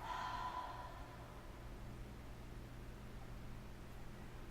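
A person at a gentle yoga warm-up breathes in through the nose and out through the mouth, a soft, quiet airy exhale that fades into faint steady breath noise, no talk.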